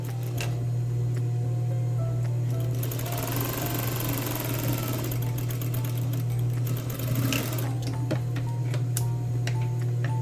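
A domestic sewing machine runs steadily throughout, stitching a French seam on a welt pocket at about 5 mm from the edge, with a constant motor hum and rapid needle ticking close to the microphone.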